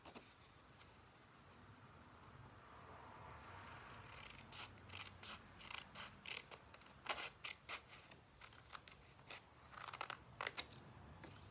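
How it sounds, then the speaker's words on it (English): Snips trim the edges of a paper seed packet, a series of quiet, crisp cutting clicks that quicken into a rapid cluster of snips over a soft background hiss. "I'm going to take my snips, and I'm just going to trim off these extra pieces."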